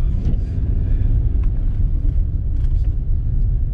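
Car interior rumble picked up by a GoPro external microphone (DJI mic on an adapter) during a snowy commute, a loud steady low drone with small knocks, no talking.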